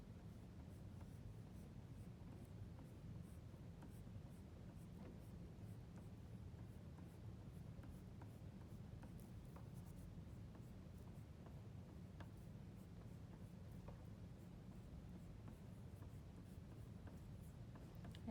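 Soft, steady scratchy rubbing of an oil pastel on paper, quiet and close, with faint ticking strokes throughout and no talking.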